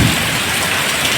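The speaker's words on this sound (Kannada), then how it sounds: "ಜೋರು ಮಳೆ ಸಂಜೆ ಆಗುವಾಗ, ಒಳ್ಳೆ ಮಳೆ, ಗಾಳಿ ಮಳೆ ಬರ್ತಾ ಉಂಟು ಜೋರಾಗಿ. ಗುಡುಗು ಸಹ ಉಂಟು ಜೊತೆಗೆ." Heavy evening rain driven by wind pours down in a dense, loud, continuous hiss, with a low thunder rumble at the very start; no talk.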